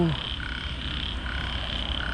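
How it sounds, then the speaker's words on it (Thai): Small frog croaking during rainfall, with a faint repeating high chirping call over a steady hiss of rain and low rumble. "โอ้กบน้อยครับพี่น้อง"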